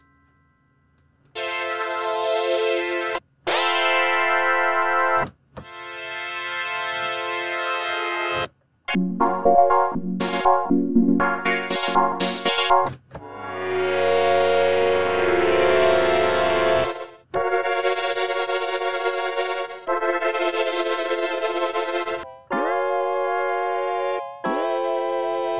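Free emulation of old-school synthesizers plays a string of held brass, pad and key tones with some pitch bends, sustained notes broken by short gaps; a voice briefly says a few words.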